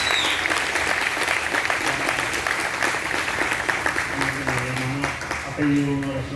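Loud applause from a church congregation fills the space continuously, with scattered voices speaking over the clapping.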